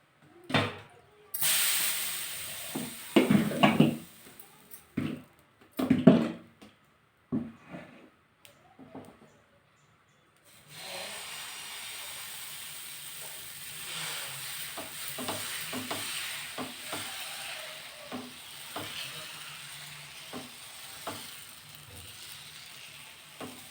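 Masala dosa batter spread over a hot iron griddle, a steady close sizzling hiss that settles in after some earlier clattering and knocks, with no talk.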